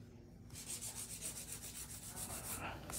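A hand file rasps back and forth on an acrylic stiletto nail in quick, even strokes, a steady close-up scratching that starts after a short pause and goes on without talk.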